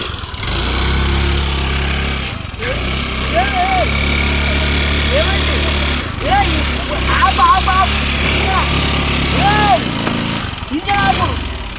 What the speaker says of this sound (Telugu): ఇంజన్ ఆపొద్దా?